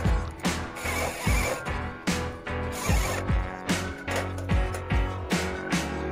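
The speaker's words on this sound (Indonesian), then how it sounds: "kita bor menggunakan baut baja ringan" A power drill drives self-drilling screws into a light steel door frame close by, its steady mechanical whir broken by a quick, regular clatter of ratcheting clicks that repeats throughout.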